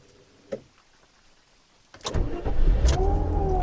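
A Nissan Maxima with an automatic transmission starts up: a single click, a short pause, then the starter catches and the engine rises into a close, steady idle, with no one speaking.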